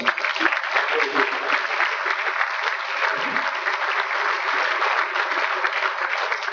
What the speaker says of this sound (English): I know you're going to need another round of applause.